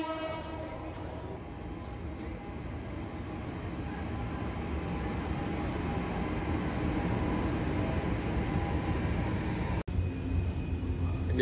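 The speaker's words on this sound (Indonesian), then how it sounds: "Ini kereta barang ya, angkut kontainer gitu." A long freight train hauling containers rolls past in Yunnan, China, a loud, close and steady rumble of wheels and cars that holds throughout without a break.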